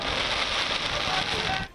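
Dense, continuous crackling of fireworks set off by a crowd celebrating in the streets, a steady hissing barrage with no gaps, cutting off abruptly at the end.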